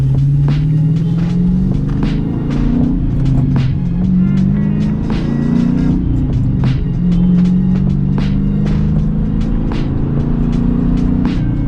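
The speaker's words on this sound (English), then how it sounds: "Gotta love that Hemi sound" A Hemi V8 car engine idles with a steady, loud low rumble and periodic revs that swell and fall, heard up close without any talking.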